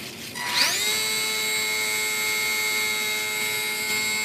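A small electric motor on a Horizon Hobby ASK-21 UMX RC powered glider, one known to have a problem, spinning up with a brief rising whine and then holding a steady, loud, high-pitched drone at full throttle.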